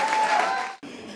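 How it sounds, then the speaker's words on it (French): Audience applause greets a wine-and-cheese evening's invited specialist, a loud, dense patter of clapping that fills the room for under a second before cutting off into quieter room noise. "Je vous demande de l'applaudir"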